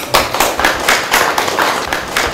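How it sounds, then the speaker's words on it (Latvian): Audience applause at an ideas-award event held in Riga City Council, greeting the council's executive director as he takes the stage; dense, steady clapping with rhythmic surges, fairly loud and close, no talk over it. "Sagaidām ar aplausu."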